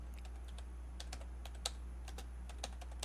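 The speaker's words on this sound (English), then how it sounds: "Now type in" Fingers type on a computer keyboard, producing quick, irregular light clicks and taps, close and fairly quiet, with no voices.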